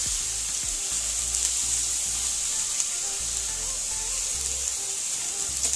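Omena (small fish) sizzle steadily in hot oil in a sufuria, a dense, continuous frying hiss close by with no voice over it.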